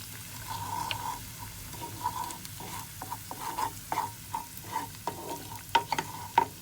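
Spices fry in a pan with lemon juice and parsley, giving a soft steady sizzle broken by repeated stirring scrapes and small clicks of a utensil against the pan, close and moderately quiet, with no talking.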